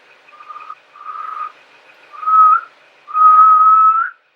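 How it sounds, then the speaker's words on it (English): A person whistles alone in a quiet room: four clear, tonal notes, each one held longer than the one before, ending on a sustained, gently wavering tone. "Can you whistle?"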